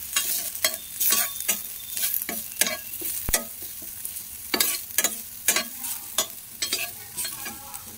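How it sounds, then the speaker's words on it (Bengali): Onions and green chillies fry in hot oil, making a continuous sizzle broken by repeated scraping strokes of a spatula stirring the pan, close up and with no talking. "পেঁয়াজগুলো হালকা ভাজা হয়ে গেছে"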